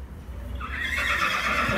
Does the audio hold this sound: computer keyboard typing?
no